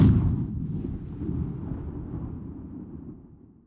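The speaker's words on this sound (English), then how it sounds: "a far-away gunshot will sound like this" A single distant gunshot sound effect for a game, a muffled low boom that rolls and fades slowly over several seconds with no crisp crack.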